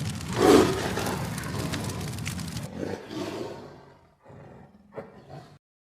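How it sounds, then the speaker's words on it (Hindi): A tiger roars in a cartoon jungle scene: a loud, close, rumbling roar at the start that trails off into growling, followed by a few quieter snarls and rustles before silence. "बाघ ने गोपी को खाने ही वाला था"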